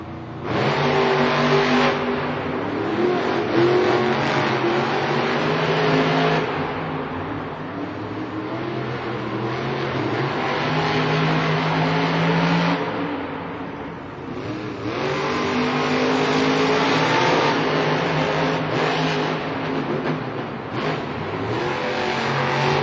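Monster trucks race at a stadium event in Indianapolis, engines roaring and revving in long surging waves that rise, dip and swell again, echoing across the arena.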